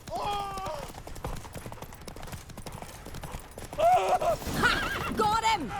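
Roach, Geralt's horse in The Witcher 3 video game, gallops with rapid hoofbeats and lets out two loud whinnies, one at the start and one near the end, amid game action sounds.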